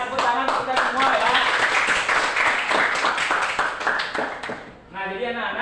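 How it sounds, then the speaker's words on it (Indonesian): Students in a classroom clap their hands together in a patterned rhythm, loud and close, with voices chanting along before the clapping fades out near the end as a voice continues. "tepuk tangan kita semua ya"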